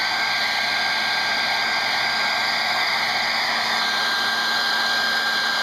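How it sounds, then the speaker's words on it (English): A hair dryer blows a steady, even whir close by while drying a watercolor painting of a morning sky, running continuously with no pauses and no talk. "Then get out our dryer."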